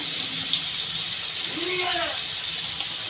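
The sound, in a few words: potatoes frying in oil with salt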